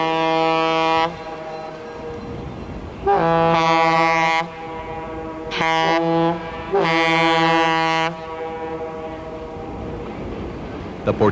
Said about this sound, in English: our train continues on for another trip around the mile-long loop track.